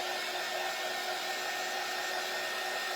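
A hair dryer blows steadily on a freshly painted spring door-hanger craft, giving a continuous whooshing whir with a fan whine. Close and constant, with no talk.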